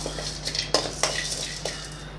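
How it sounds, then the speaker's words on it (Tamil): Whole spices dry-roasted in a pan without oil for chicken curry, a spoon scraping and clinking against the metal in quick irregular strokes, close and alone. "இப்போ இதை எண்ணெய் விடாமல் நல்லா நம்ம வறுத்துக்கலாம் கருக விட்டுறாமல் நல்லா வாசனை வர்ற அளவுக்கு நல்லா வறுத்து எடுத்துக்கலாம்"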